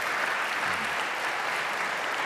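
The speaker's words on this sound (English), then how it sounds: "Can we have a big round of applause for them?" Sustained applause from a panel-discussion audience on stage at the Westergasfabriek, a steady even wash of clapping at moderate level with no talk over it.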